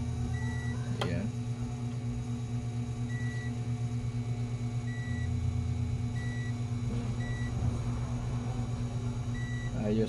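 Short, evenly spaced electronic beeps from a multimeter continuity test on a laptop motherboard, about six brief tones repeating over a steady low hum and background noise.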